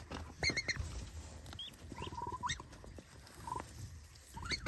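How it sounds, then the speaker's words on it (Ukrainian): High, thin peeping calls from ducklings repeat in short bursts, mixed with shuffling and faint background noise. "чи то качечка так пищить?"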